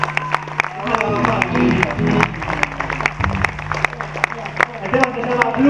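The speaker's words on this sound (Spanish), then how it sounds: "un fuerte aplauso para él" Audience applause for a blues band: sharp, scattered claps with a quick uneven rhythm, close and fairly loud, mixed with crowd noise and a sustained low hum.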